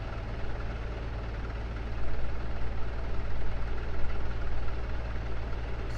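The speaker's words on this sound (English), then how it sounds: "you could listen to the engine pitch" F-16 Viper jet engine in the DCS flight simulator, a steady, continuous low roar with a droning hum that holds constant and swells slightly louder after a couple of seconds, with no talking.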